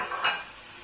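Green chili and chopped tomatoes frying in a masala base, a soft sizzling hiss with a brief stirring swell near the start, fairly faint and steady, no talking.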